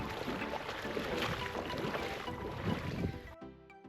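A kayak paddles on coastal water off Oak Island, North Carolina, with soft splashing and water movement blended into wind noise, steady and fairly close before cutting off abruptly near the end.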